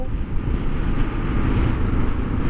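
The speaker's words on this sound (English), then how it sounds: "Yeah, because it's windy right now. It's really windy and cold." Strong, cold wind buffets the microphone on a KLR650 motorcycle near Globe, producing a constant loud roar and rumble throughout.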